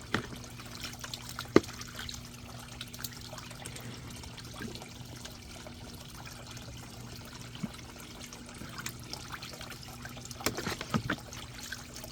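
Soft underwater bubbling and trickling as air escapes a hot tub filter, steady and low, with occasional sharper gurgles and splashes near the end.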